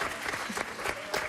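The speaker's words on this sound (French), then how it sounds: "J'aimerais qu'on m'applaudisse après une phrase pareille" A French TV game-show studio audience breaks into applause: a short, dense burst of crowd clapping, loud and close.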